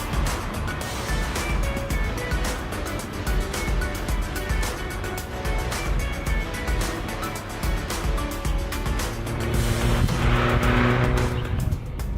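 A 1989 Mazda MX5 NA, an early model brought over to Australia, driving hard laps: continuous loud engine drone heard from on board, revs rising and falling through gear changes, with road and tyre noise throughout.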